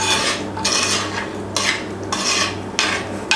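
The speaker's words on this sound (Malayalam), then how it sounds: "ഇനി ജസ്റ്റ് ഇതൊന്ന് മിക്സ് ചെയ്യണം" Chicken pieces stirred into a Kerala varutharacha chicken curry in a pot: a series of scraping, clinking strokes of a utensil against the pot in a few separate bursts over a low steady hum, with no talking.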